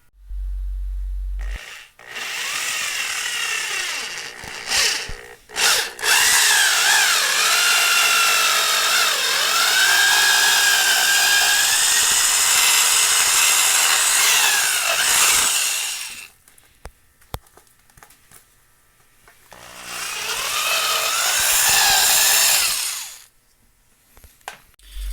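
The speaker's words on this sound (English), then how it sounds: "let's get these other holes drilled up" A power drill bores holes in a plastic mounting plate for a 2010 RMZ motorcycle, with two long, loud, grinding whine runs separated by a quieter pause, close up.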